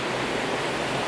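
Bokgo 1 Falls on Naeyeonsan mountain roars steadily, a dense, loud, unbroken rush of falling water heard up close with no voices.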